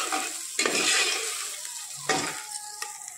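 Oil sizzles and crackles steadily in a pan as whole spices temper for a chicken dish, with a couple of louder bursts as ingredients hit the heat and a spoon stirs through.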